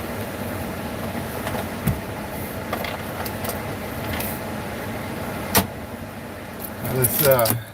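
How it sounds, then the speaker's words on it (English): Someone climbs out of a parked car near Fort Lauderdale beach: steady engine and cabin rumble, keys jangling, a sharp door clunk partway through, and a busy rattling burst of movement near the end. "Let me exit the car."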